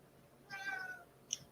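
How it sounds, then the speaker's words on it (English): A house cat meows once in the background, faint and drawn out, followed by a short sharp squeak, in an otherwise quiet room. "there's a cat in the background"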